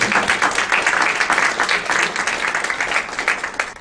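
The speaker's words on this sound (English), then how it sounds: "So if you all can join me in a round of applause for the Canon Student Leadership Work Group that put this together," Audience applause for a student leadership work group, a dense steady wash of many hands clapping at close range that holds for several seconds with no talking.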